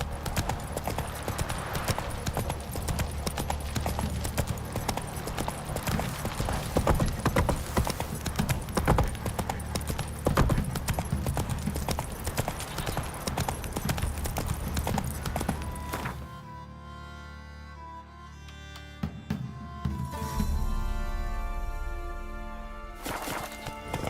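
Horse hooves clip-clop at a steady walking rhythm in a Witcher video game, close and clear, with occasional thuds; the hoofbeats fade near the end as music and a brief voice come in.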